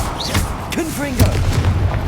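The Confringo blasting spell cast in the video game Hogwarts Legacy: a short booming blast midway through, with a shouted voice over and around it.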